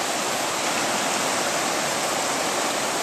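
Turbulent, greenish water rushes and churns in a steady, loud, broadband roar that holds constant with no voices over it.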